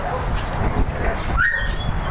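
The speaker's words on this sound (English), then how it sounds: "You got that high-pitched bark. You get all excited." A dog lets out excited, high-pitched yips and whimpering barks close by, with other dogs and people faintly around it.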